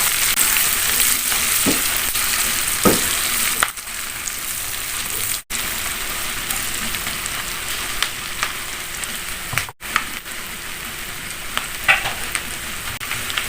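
Chili peppers fry in a pan for a stir-fried eggplant dish, giving a steady, loud, broadband sizzle that runs throughout, with a few brief stirring scrapes and short dips in the hiss.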